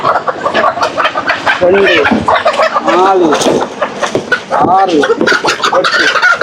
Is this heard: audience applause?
no